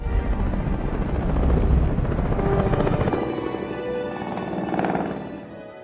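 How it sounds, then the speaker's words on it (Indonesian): A steady engine drone of an aircraft passing overhead, swelling and fading over several seconds without any voices. "Saat ini, Dr. Grace Jack serta Nom berada di pesawat yang dikemudikan Turdi."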